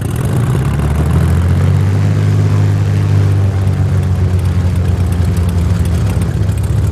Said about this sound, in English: Engine start.